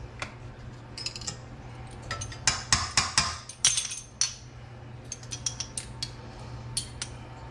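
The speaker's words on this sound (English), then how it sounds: "I love these little spoons because they can fit in the jars pretty easily." A small measuring spoon clinks and scrapes inside a jar of pumpkin pie spice, giving a quick cluster of light metallic taps and scrapes followed by scattered softer clicks.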